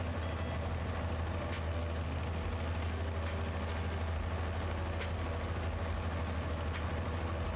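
A big 6R-series tractor of about 259 horsepower idles in a farming video game, a steady low diesel rumble with a constant mechanical hum, running alone and unchanging throughout.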